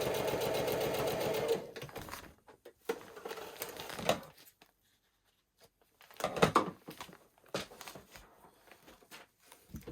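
Sewing machine stitching pieces of a pine-tree quilt block, with a steady whirring run for about a second and a half, then further bursts of stitching separated by pauses and fabric handling.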